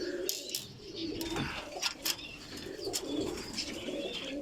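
Firozpuri pigeons coo and call softly in a breeder loft, with scattered chirps from other birds over a faint background.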